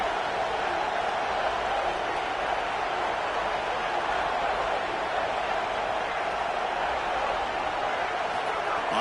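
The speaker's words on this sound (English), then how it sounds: "here comes the noise. This crowd is trying to inspire this defense to make a big red zone stop" A stadium crowd in an American football video game roars as a steady, broad wash of noise during a red zone defensive stand, constant and moderately loud throughout.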